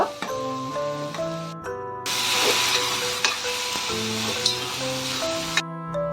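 Mashed eggplant fries with onion in a pan for Marathi bharit, giving a steady, loud sizzle and stirring noise beneath melodic background music.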